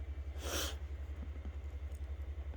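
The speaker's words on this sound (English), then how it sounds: "Oh, Shinji did a little sneeze." A single small, sharp sneeze bursts out once, faint against a steady low rhythmic hum in a quiet room.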